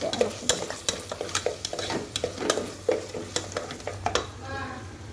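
A spoon scrapes and stirs through chicken curry with crushed ginger and garlic in a pan, quick repeated strokes over a low, steady sizzle, close up and with no voices.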